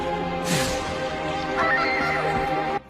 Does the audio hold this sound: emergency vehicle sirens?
no